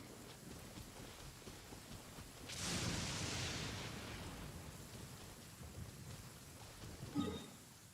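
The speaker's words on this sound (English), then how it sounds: "Oh, I don't like the rain." Rain falling in Genshin Impact, a soft steady wash of noise that swells for a few seconds midway and stays faint throughout.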